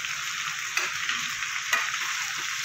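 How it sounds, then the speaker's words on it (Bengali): Potatoes frying in a small wok with salt and turmeric, a dense continuous sizzle with a couple of sharp stirring scrapes cutting through. "এবার আমি দিয়ে দেবো নুন আর হলুদ দিয়ে আরও কিছুক্ষণ ভাজা করব।"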